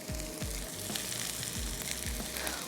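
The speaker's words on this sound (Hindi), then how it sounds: "साथ ही साथ फिर हम थोड़ी सी प्याज ऐड करेंगे, उसको सौते करते हैं।" Broccoli and onion sizzling in a hot pan as they are sautéed, a steady crackling hiss broken by several soft scraping stirs, close and fairly quiet with no voices.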